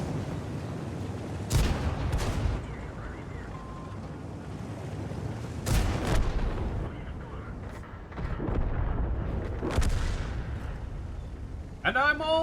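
Rapid weapon fire in the video game A Tomato Plays: The Obsidian, loud sustained bursts of booming shots with brief pauses between volleys, under a constant noisy background.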